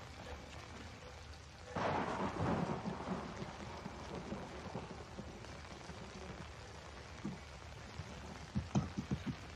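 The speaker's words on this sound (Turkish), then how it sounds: "Ya o kadar şimşek çakıyor ya." Thunder rumbles through a lightning storm in the horror game Outlast, a deep rolling crash over steady rain, with a few sharp cracks near the end.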